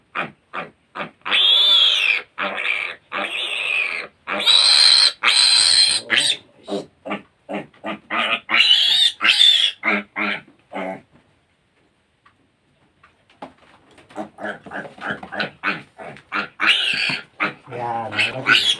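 Piglets squeal loudly in repeated harsh bursts while their teeth and tails are clipped on a pig farm, close up, with a pause midway, then more squealing as someone speaks nearby.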